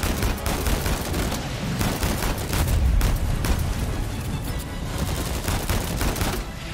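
Gunfire in the video game Uncharted 4 on PC, a steady string of loud shots and bursts with a low boom midway, close and continuous with no talk over it.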